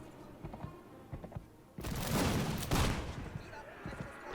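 Musket volleys in the Mount & Blade: With Fire and Sword battle game: scattered shots, then a loud, dense burst of overlapping gunfire that continues for a couple of seconds.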